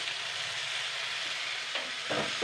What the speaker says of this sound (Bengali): এবার এই হাঁসির ডিমটা দিয়েও আমি জাস্ট দুই দু মিনিট মতন হালকা ভেজে নেবো